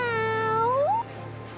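A cat meows in the video game Tales of Graces f, a single clear rising meow lasting about a second, loud and close with no talking over it.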